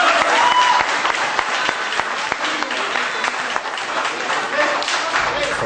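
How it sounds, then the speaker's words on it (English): An audience at a martial arts dojo event bursts into steady, sustained applause, a dense wash of many hands clapping close by that carries on throughout without a break. "Big round of applause, please."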